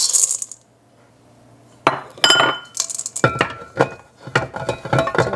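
Chocolate chips tumbling into a glass bowl in a clattering, clinking patter of many small hits, loud and close, after a brief quiet pause, with no talking.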